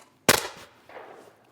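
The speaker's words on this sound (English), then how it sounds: "So you just shoot it, gun down at that black target." A single sharp shotgun blast fired at a black clay target, loud and close, followed by a short fading rumble of echo, with no talk over it.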